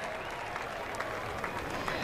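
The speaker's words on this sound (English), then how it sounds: "A big round of applause for Alina Wise" Race fans applauding at the 2014 MAVTV 500 IndyCar championship night in Fontana, a faint, distant spread of clapping and crowd noise over open-air ambience, with a voice faintly in the mix.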